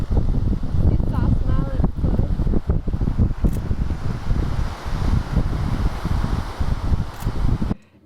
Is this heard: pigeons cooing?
no